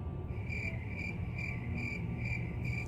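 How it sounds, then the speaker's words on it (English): Cricket chirps come in a steady pulsing rhythm, regular bursts repeating about twice a second over a faint background hiss, alone and moderately quiet with no voices. "Crickets."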